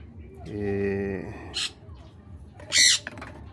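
Pet birds squawk and chirp inside a small cage, with a sustained harmonic call early on, then sharp bright bursts near the end against a noisy background.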